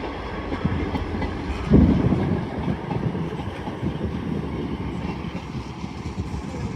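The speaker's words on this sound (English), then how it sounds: "Arriving in now is a Northern Class 158 bound for Addick" A Northern Class 158 diesel unit pulls into Doncaster station, its steady rumble and rolling wheel noise filling the scene, with one louder clunk early on, then continuing evenly close by with no voices.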